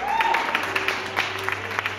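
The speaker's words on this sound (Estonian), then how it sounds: "teeme aplausi" An audience applauding after a fire-eater's performance at a gala ball. Steady clapping fills the room under a voice talking over a background hum.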